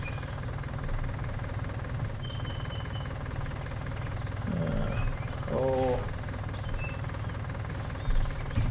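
A Fiat tractor engine in Farming Simulator 19 drones steadily through the whole stretch, a low continuous idle with a brief mechanical chirp near the middle and no talk over it.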